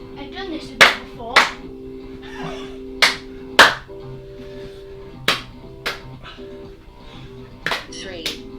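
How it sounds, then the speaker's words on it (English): Sharp hand claps during a workout exercise, clapping to one side then the other, come in irregular single and paired strikes under ongoing talk from people. "clap one side, clap the other side, down to that foot."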